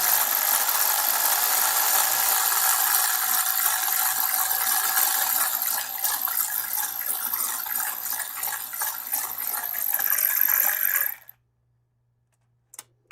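Oil pump on a rebuilt Jeep XJ 4.0 engine, turned with a flat blade screwdriver to prime it, giving a continuous close whirring, rattling mechanical drone that runs for about eleven seconds and then cuts off into near silence.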